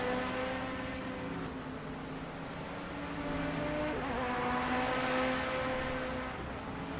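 BMW M3 GT2 race car lapping Spa-Francorchamps in Project Cars on a cold early-morning track, its engine droning steadily and loudly throughout with a slight rise in pitch near the end, no talk over it.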